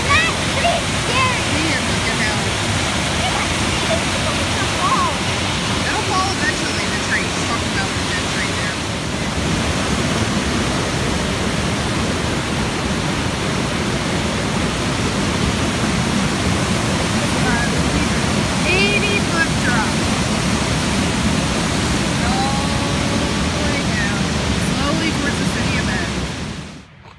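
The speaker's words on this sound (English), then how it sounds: "There is so much water coming off of these falls right now." A powerful waterfall in Oregon's Deschutes National Forest, running at high flow, roars as a loud, continuous broadband rush with no letup, close and steady throughout.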